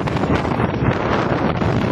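Steady, loud wind rushes and buffets the microphone without a break, like air streaming past while riding a motorcycle at speed on a road in San Jose del Monte, Bulacan.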